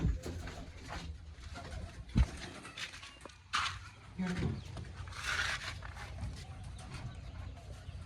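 Pigeons coo in a home loft, repeated soft throaty calls over several seconds with light shuffling and a few knocks around them.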